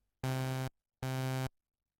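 Two identical buzzy synthesizer notes with sustain set to half level, each about half a second long with abrupt starts and stops and a steady flat body, separated by a short gap, loud and dry with no voice.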